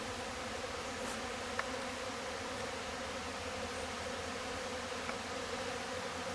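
A steady, even buzzing of many bees hums throughout, fairly faint, with no voices over it.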